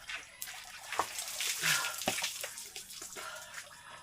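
Water is poured over a person while bathing, heard as several splashing gushes and dripping bursts that rise and fade in uneven surges, close and moderately loud.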